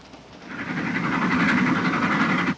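A moving train carriage rumbles along, its steady drone rising over the first half second and then holding loud and even, with faint rhythmic clatter, before cutting off abruptly at the end.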